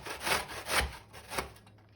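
Pear with the skin on rubbed up and down against a grater, three soft rasping strokes in a row, close and fairly quiet.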